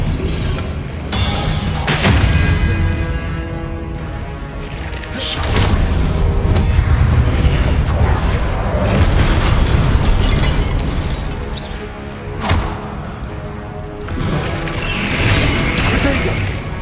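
Fiery Confringo spell blasts in the Hogwarts Legacy video game, a run of loud booming bursts and crashes spread through the stretch with dense magical effects and clatter between them.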